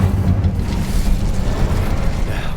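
The Incendio fire spell in Hogwarts Legacy erupts in a loud, rumbling, continuous whoosh of flame with booming low end, sustained and close for a couple of seconds.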